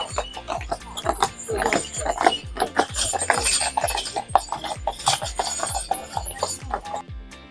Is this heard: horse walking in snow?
yes